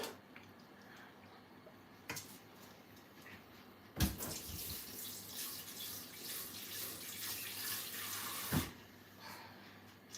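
Steady tap water runs and splashes into a sink, broken by a few brief knocks, with a louder gush in the middle stretch.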